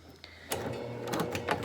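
Sewing machine stitching a fabric connector onto a cross-body bag exterior, a short whirring run with rapid mechanical needle chatter after a click, close and moderately quiet, with no talking.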